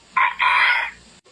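A person vocally imitating a duck's quack, producing two loud nasal honking calls, a short one followed by a longer drawn-out one, close to the mic with no other talk.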